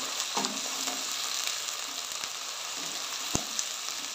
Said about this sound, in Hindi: प्याज को सुनहरा होने तक पकाएंगे